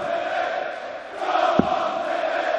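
A darts crowd at the 2020 Belgian Darts Championship semi-final between van Duijvenbode and Price chants and cheers in a steady, moderately loud roar filling the arena, with a brief sharp knock partway through.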